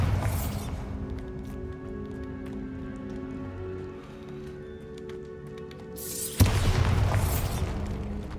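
A Bombarda blasting spell in the Hogwarts Legacy video game bursts loudly at the start and again near the end, each a booming crash with rumble, while a low ambient game drone fills the space between.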